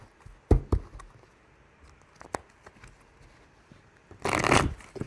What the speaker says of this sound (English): Do a cut, then I'll do more shuffling.